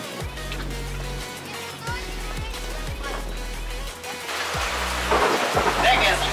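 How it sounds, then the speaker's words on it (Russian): Heavy rain pouring down during a jet ski festival on Lake Baikal, a loud steady hiss with low thunder-like rumbles, growing denser toward the end. "Сильный дождь."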